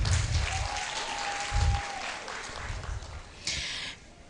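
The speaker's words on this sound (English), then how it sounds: "A round of applause for them." Applause from the audience at a law faculty roll call ceremony: steady clapping running under a faint sustained tone, swelling briefly near the end.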